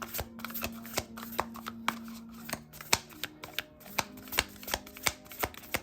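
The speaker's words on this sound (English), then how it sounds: "I don't even think I could shuffle these cards like that." Oracle cards being shuffled close up, a rapid run of crisp slapping and riffling clicks in an uneven rhythm, alone without voices.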